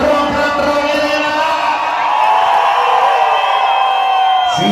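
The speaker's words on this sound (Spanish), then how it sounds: "Grito de la banda, rock and rollera." Crowd at a rock and roll show in Ciudad Neza shouting and cheering together, a loud sustained roar of many voices with whoops rising over it for the whole stretch.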